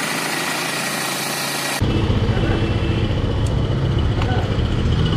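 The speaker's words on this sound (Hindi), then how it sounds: "बाइक को फुल स्टार्ट कर दिया है, थोड़ा स्टार्ट होने जाए।" A motorcycle, ridden solo from Kolkata to Ladakh, starts up partway through, then settles into a steady, close idling rumble; a voice is heard in the background before and during it.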